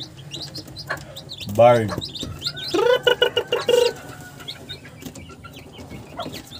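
Newly hatched chicks, Rhode Island Red, Black Australorp and Barred Plymouth Rock crosses, peep in a barn with a burst of chirps and clucks near the middle, while a person talks nearby.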